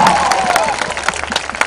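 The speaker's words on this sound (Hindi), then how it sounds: "अगर मैंने अच्छा डांस किया तो तालियां बजाओ।" An audience applauds Namashi's dance at his film release event, with brief crowd clapping and cheering, loud and close, thinning toward the end.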